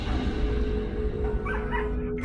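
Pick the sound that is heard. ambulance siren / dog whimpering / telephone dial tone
dog whimpering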